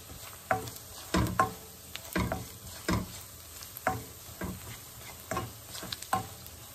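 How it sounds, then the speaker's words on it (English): Soya keema cooking with spices in an oiled pan, with a steady low sizzle broken by repeated scraping stirs of a spoon or spatula at a roughly even pace, close and fairly quiet, with no talking. "We'll fry this 2 minutes."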